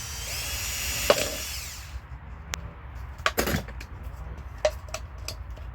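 Hand drilling of holes into a plastic bottle for garden use: a few short, sharp bursts of scraping and cracking, close and moderately loud, separated by quiet pauses with no talk.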